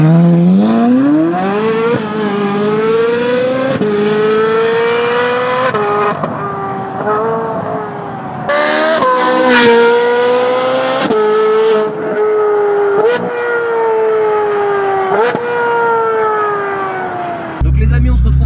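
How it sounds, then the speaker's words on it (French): A Ferrari 458 Spider with an IPE exhaust drives past at full song: a loud, high-pitched V8 wail rising through the gears with sharp shift breaks and revs, close and continuous. "on se retrouve à bord de cette 458 Spider pour écouter le son."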